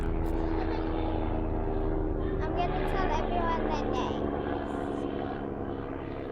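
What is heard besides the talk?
helicopter flying overhead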